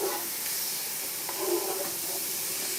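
Lamb shank pieces browning in a pan of butter-margarine and oil, a continuous close hiss of frying fat with a few faint pops, no talking over it.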